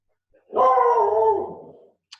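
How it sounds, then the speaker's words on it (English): A single drawn-out dog bark, close and fairly loud, sliding into a whimpering howl before it fades, with silence around it. "Sorry for the dog, he's barking at something."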